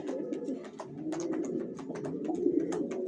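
Racer pigeon babies cooing steadily up close, soft repeated low coos overlapping with a few sharper chirps and wing or cage rustles, no talking.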